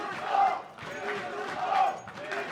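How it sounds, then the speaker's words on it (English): Crowd at the Copenhagen Games 2015 esports grand final, a Counter-Strike match of Virtus.pro versus TSM, chanting in swelling rhythmic waves that rise and fall in a large hall, with a voice talking over it. "And there's the chant as well starting up."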